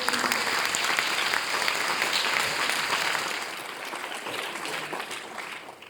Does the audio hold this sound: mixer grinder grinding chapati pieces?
no